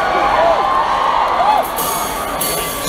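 A concert crowd at a show screams and cheers in a dense, continuous roar, with individual shrieks and whoops rising above the mass and filling the space throughout.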